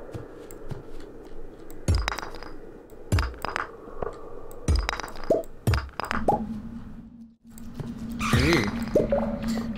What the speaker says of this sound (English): that noise you just heard means there's going to be a bat coming after me.